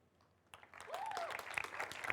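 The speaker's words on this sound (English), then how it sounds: "please give him a warm applause" Audience applause for chef Eduard Xatruch of Disfrutar, Barcelona, at a food science event in Madrid, rising after a quiet start into steady clapping with a brief whistle-like tone early on.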